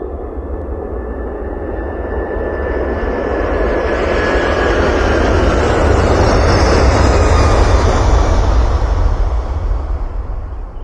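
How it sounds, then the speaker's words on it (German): A fixed-wing airplane flies past with a broad roaring engine drone that swells to a loud peak midway and slowly recedes, heard alone without talk. "Ein Flugzeug und die billige Animation als Einstieg."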